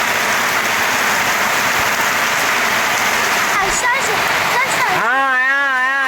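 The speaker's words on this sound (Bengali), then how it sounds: "অনেক বৃষ্টি আসে" Heavy afternoon rain falling in a village yard, a dense steady hiss of drops on the ground, followed near the end by a voice calling out.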